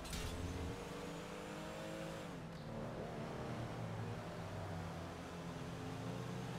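Engine of a car being driven in GTA Online, a steady mid-level drone with a shift in pitch partway through and faint tyre noise, alone without voices.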